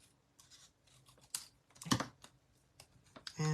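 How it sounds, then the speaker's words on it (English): Scissors snip off the bottom of a piece of paper during papercrafting, giving a string of short, sharp cuts and rustles at close range, with the loudest snips near the middle and again at the end. "I'm just going to snip off the bottom."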